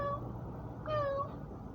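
A human voice imitating a cat, a single short nasal meow near the middle, fairly quiet against a low background hum.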